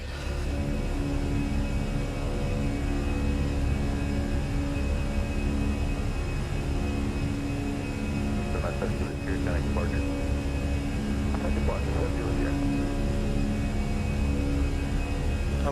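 Engines of a Fenix Airbus A320 drone steadily at climb thrust in Microsoft Flight Simulator. The roar stays loud, broad and continuous, with a faint steady whine above it and brief cockpit sounds partway through.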